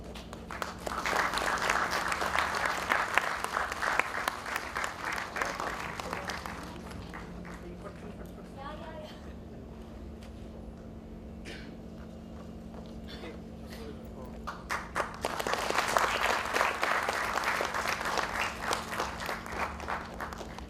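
Two bursts of audience applause at a brochure release during a National Technology Day oration, separated by a quieter stretch with murmuring and faint voices, each burst a dense crowd clatter.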